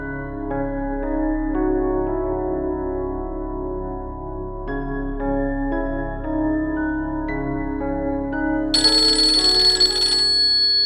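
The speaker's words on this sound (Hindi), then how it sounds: "अम्मी का फोन है।" An incoming-call ringtone in a Pakistani drama scene, a repeating musical tone pattern that plays steadily and fairly loud for about nine seconds with no talking, then gives way to a brighter, sharper burst at the end.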